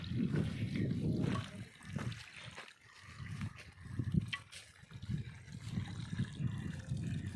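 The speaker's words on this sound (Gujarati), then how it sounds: "થઈ ગઈ આપણી મોટર ચાલુ." A farm water pump motor runs on a new orchard plot as water gushes and splashes out, a steady rushing noise with low surging pulses that stays loud and close throughout.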